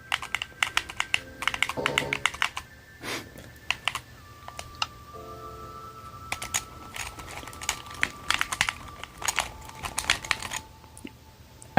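Game controller buttons pressed during Minecraft Bedrock play give rapid, irregular bursts of close clicks and taps that sound much like keyboard typing, with brief pauses between flurries and no talk.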